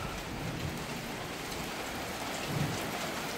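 Heavy summer rain shower on the edge of a storm, a dense, steady roar of drops pattering on surfaces and water, continuous and fairly close with no voices.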